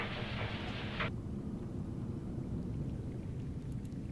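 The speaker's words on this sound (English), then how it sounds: "This rain keeps falling, sooner or later this place will be buried." Steady rain pours down in Subnautica with a deep, continuous rumbling wash, and a brighter hiss of downpour in the first second fades into the low, even roar.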